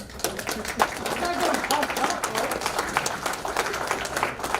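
An audience at a cyber crime safety talk gives a round of applause, scattered and fairly soft clapping that runs throughout, with people talking over it.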